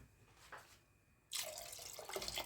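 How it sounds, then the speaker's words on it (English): Tap water runs into a cup for lasagna sauce, starting after a quiet pause with faint clinks, then a sudden steady gushing splash that continues to the end. "I'm gonna add in just about a cup of water as well"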